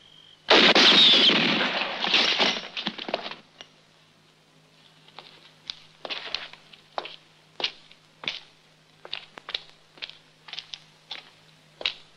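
Gunshots in a western film: one loud, booming burst opens, followed by a string of sharp, separate cracks and ricochet-like shots spaced about a second apart, with no talking.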